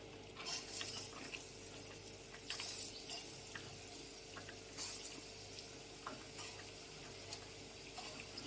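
Bora fritters fry in mustard oil in a wok, making a faint, steady bubbling sizzle with occasional soft clicks and taps of a utensil; no one speaks.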